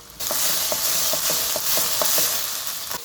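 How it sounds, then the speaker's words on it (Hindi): Okra (bhindi) fries in a pan with a loud, continuous close sizzle, while a utensil scrapes and clinks in a loose regular rhythm throughout. "अब मैंने भिंडी जो इस तरीके से डाली है पहले फ्राई करने के लिए"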